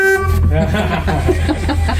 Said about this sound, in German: So, eine Hupe hat es auch.